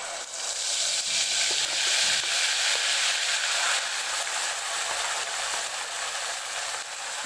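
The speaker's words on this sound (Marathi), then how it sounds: "इथं तेल गरम झालेलं आहे मी मसाला टाकून घेते" Spice masala fries in hot oil for a goat-head curry, a loud, steady, dense sizzle with faint scraping of stirring, no voices.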